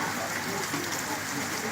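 Steady rain falls over an outdoor amateur volleyball match in Palembang, a dense, even hiss of drops on surfaces holding at a constant moderate level with no clear voices.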